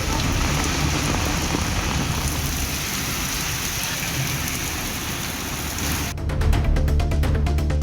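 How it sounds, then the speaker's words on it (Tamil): Heavy rain driven by strong wind in Madurai, a dense steady roar of downpour on surfaces, loud and close, with a sharper burst of pounding drops toward the end. "சுமார் அரை மணி நேரத்திற்கு மேலாக மழை பெய்தது"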